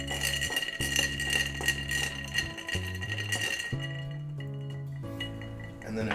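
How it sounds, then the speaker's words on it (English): Bar spoon stirring a Black Russian cocktail of vodka and coffee liqueur in a glass, with light clinks against the glass over steady tonal background music. "so we'll stir that up as is first"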